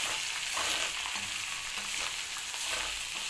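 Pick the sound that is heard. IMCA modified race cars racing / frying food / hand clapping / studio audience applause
frying food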